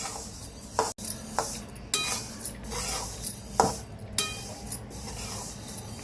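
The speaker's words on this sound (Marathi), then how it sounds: "तीळ भाजताना हे तीळ सारखे असे हलवत राहायचे, तेव्हा ते व्यवस्थित भाजले जातात।" Sesame seeds roast in a pan on medium heat as a spoon stirs and scrapes them steadily, producing soft rustling sweeps and a few sharper metallic clinks close by.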